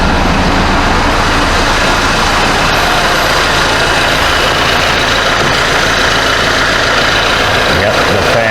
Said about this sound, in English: Look at the engine.